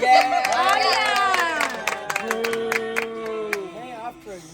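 Family and friends clap at a home birthday celebration, scattered sharp claps mixed with excited chatter, singing-like voices and cheering close by.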